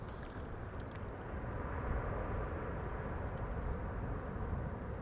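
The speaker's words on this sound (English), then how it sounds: "flight 460 arriving from Reykjavik in Iceland" An airplane arriving at Amsterdam Schiphol Airport, flight 460 from Reykjavik, gives a distant, broad jet roar that swells slightly and holds steady, faint and without voices.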